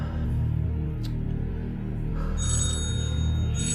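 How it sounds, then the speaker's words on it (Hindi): A telephone rings with an incoming call during a TV drama scene, a steady electronic ring repeating over a low background hum, fairly loud and close, with no talking. "कॉल आ रही, प्लीज अटेंड करें।"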